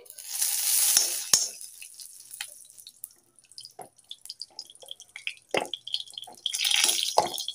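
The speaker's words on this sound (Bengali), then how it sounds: "কড়াইতে আমি 1 চামচ ঘি দিয়ে দিচ্ছি।" A spoonful of ghee hits a kadai on a full gas flame, giving bursts of sizzling and spattering with sharp pops and crackles between quieter gaps, fairly close, with no talking.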